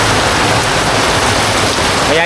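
Rain falls steadily and densely as a constant close hiss of drops on surfaces, filling the whole stretch without a break.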